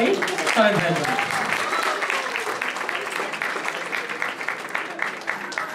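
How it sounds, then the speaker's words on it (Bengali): At a Bangladesh Association community event, a hall audience applauds for a sportsman being honoured. The clapping is sustained and moderately loud, and a voice is briefly heard over it at the start. "একটি জোরে করতালি সনেট ভাইয়ের জন্য"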